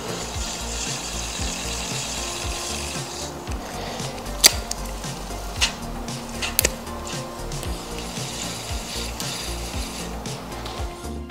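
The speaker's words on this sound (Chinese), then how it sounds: "我在罗拉里面点了这个 S 的蓝头油之后啊， 就没有沙沙声了" Shimano Twin Power fishing reel rotor turning, with soft continuous rustling and grinding rotation noise, a few faint clicks and small knocks scattered through, heard up close without talk.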